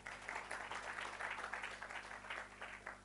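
Church congregation claps during a sermon, a faint, somewhat distant patter of applause swelling and fading in uneven waves over a low steady hum.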